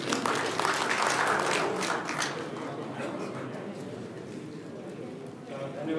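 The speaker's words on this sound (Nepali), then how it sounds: "जोरदार ताली प्लिज" Steady applause fills a convention hall for a special guest, a former vice chairman of the National Planning Commission, with the clapping gradually easing and a voice talking over it.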